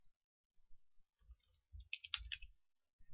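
Several quick mouse clicks in a Mission Manager members software screen, close and fairly soft, with a short cluster in the middle of otherwise quiet room tone.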